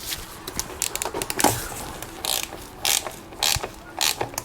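A hand ratchet clicks in quick, uneven bursts as bolts are tightened on the oil pan of a Mercedes 722.6 automatic gearbox. The clicks are close and crisp, with short pauses between the groups.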